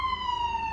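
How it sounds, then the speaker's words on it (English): A police siren wails steadily, its high tone gliding slightly downward as it passes close by over a low rumble of traffic. "That was a cop car speeding right next to me."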